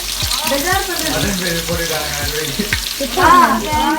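Onions for mutton biryani fry in a pot and get stirred, with a steady sizzle and spoon scrapes under a loud melodic voice and a chatty home atmosphere.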